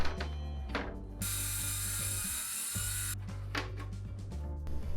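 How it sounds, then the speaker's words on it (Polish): A plunge saw rides along a guide rail cutting wooden boards for a pergola, its motor droning with a loud high-pitched whine through the cut, then easing back to a lower hum. "tnę pilarką szyną prowadzącą wzdłuż zaznaczonych linii"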